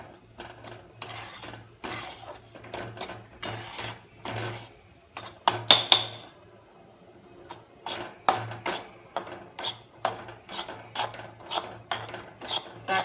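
A spoon scrapes and stirs coarse wheat flour roasting in a pan for shiro. The close, rhythmic strokes come in quick bursts with a short lull midway, and a low steady hum sits underneath.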